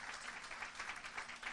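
A church congregation applauds during a sermon: faint, distant, continuous clapping that pulses gently in volume throughout.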